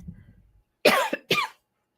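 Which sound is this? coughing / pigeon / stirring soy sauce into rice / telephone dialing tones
coughing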